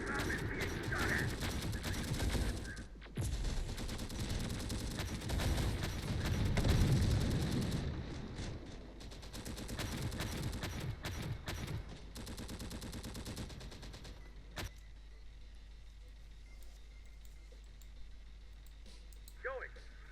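Rapid gunfire rattles at a big bomb during a video game battle for Santa Fe, bursts of machine-gun and rifle shots crackling loud and near for about fifteen seconds, then cutting off to near silence, with voices speaking over it.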